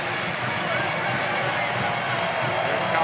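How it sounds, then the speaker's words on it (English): Arena crowd at a Eurobasket 2015 game between Bosnia-Herzegovina and Finland applauding and cheering a player, a steady broad wash of noise throughout with a commentator talking over it. "here's the applause, look at that. They absolutely adore him."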